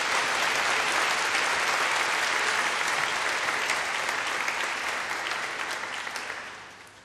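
A crowd at a Bible teaching session breaks into loud, dense applause to welcome the teacher, a thick sustained patter of many hands that holds strong and then slowly fades toward the end.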